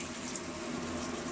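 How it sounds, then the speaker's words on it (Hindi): Water splashing into frying spice masala in a hot pan while cooking a halwai-style kachori vegetable curry, a steady close hiss and rush lasting a moment with no talking. "थोड़ा सा हम पानी डाल रहे हैं"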